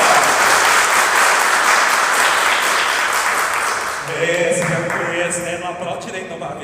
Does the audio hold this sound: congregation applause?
yes